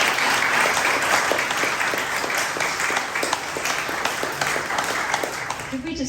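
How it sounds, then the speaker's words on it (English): An audience applauds the author at an anthology book launch, a sustained round of clapping with individual claps standing out within the steady wash. "Could we just have another round of applause for our author?"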